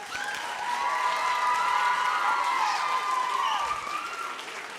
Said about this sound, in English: let's give them another round of applause as they're heading out